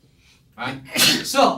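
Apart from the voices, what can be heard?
sneeze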